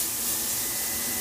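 A shop air hose blows a steady, loud hiss of compressed air at close range to dust off a flatbed printer, a short continuous burst with no talking.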